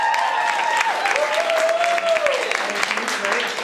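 Steady crowd applause fills an improv comedy show, with a voice rising over it throughout.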